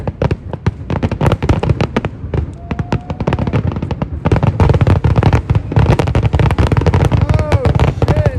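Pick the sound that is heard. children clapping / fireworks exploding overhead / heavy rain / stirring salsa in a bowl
fireworks exploding overhead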